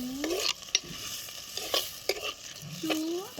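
Onions and tomatoes sizzle softly in a pan while a spoon stirs and scrapes in short, irregular strokes.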